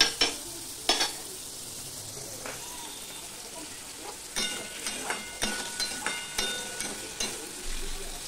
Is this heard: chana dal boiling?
yes